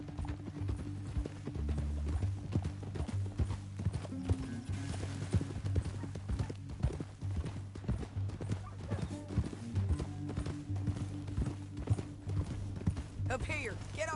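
Horse hooves clip-clop steadily through a Red Dead Redemption 2 game scene, mixed under a continuous music bed and character dialogue, with a brief whinny-like burst near the end.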